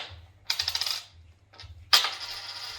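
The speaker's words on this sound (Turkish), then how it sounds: "Evde bulduğu bozuk paraları bu şekilde yere atıyor" A pet bird flings loose household coins onto the floor, producing a rapid jingling clatter of metal bouncing, a short pause, then another louder spill of coins ringing out, close by and with no voices.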